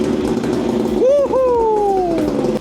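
A 140HP sleeper ATV engine fires up and revs, a loud rising whine that sweeps up then settles into a steady, slowly falling pitch over rumbling background noise.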